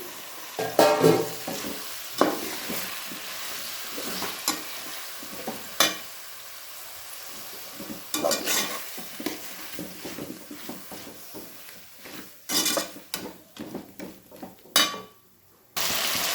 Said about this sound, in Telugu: పుదీనా, కొత్తిమీర ఇవన్నీ వేసుకొని బాగా కలుపుకోవాలండి.